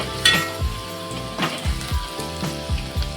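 Garlic frying in a pan until golden for a village-style spicy rassa curry, a close sizzle broken by rhythmic scraping clanks of a spoon stirring against the pan.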